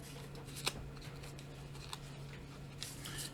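A piece of tape being handled while an open-top box is assembled: soft crinkling and a few sharp little snaps and ticks, close and quiet, with no talking.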